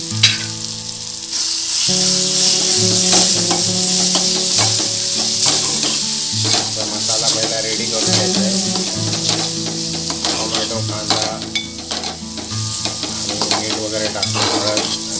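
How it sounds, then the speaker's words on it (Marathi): Dried shrimp frying with red masala in a pan for a Konkani-style dry shrimp dish, loud close sizzling under steady stirring and scraping, with a melodic background tune running throughout and no talking. "त्याला परत तुम्ही चांगल्या मिक्स करून घ्यायचं ढवळून घ्यायचं"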